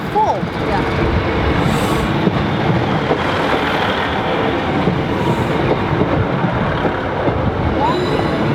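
A train pulls into a station platform, its steady broad rumble and rail noise filling the whole stretch at close range, with people talking nearby over it.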